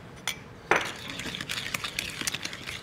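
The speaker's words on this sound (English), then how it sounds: "Break up the egg. And the egg gets mixed with 1 tablespoon of sugar." A whisk or spoon clinks against a bowl, mixing an egg with a tablespoon of sugar for batter: a few sharp taps, then quick, light, irregular scraping and clinking, close and fairly quiet.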